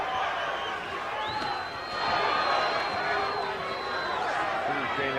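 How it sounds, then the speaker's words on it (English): A boxing arena crowd roars and cheers as the fight begins, a broad sustained wash of voices with a whistle cutting through, under a commentator talking. "this crowd is pretty pumped up tonight"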